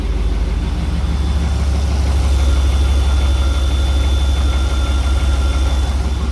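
Idling engine of a Chevrolet C1500 pickup after an EGR delete, a steady, close low rumble with an even pulsing beat and a faint high whine above it, no talk.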